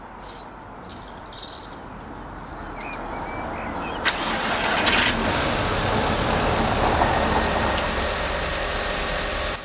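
An Audi TT that was just sprayed with water cranks and catches with a sharp burst, then settles into a steady low idle, with faint birdsong in the background before the start.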